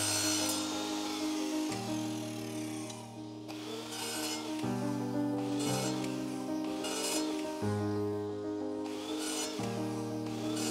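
Small 15 mm pieces of wood are cut for a clamp rack, with a steady, loud power tool buzz that changes tone every second or two as each cut starts and ends.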